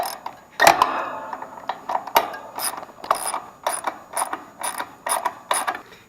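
A ratchet wrench loosens half-inch bolts on a scroll compressor: close, crisp clicking in short repeated bursts with brief pauses between strokes, and no talking.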